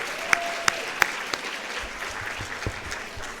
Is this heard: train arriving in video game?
no